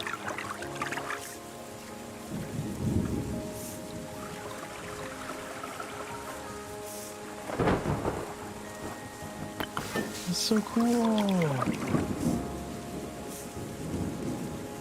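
In the video game Terra Nil, a rainstorm hisses steadily, with deep thunder rumbles rolling in and swelling loudly partway through. Someone briefly talks over the storm.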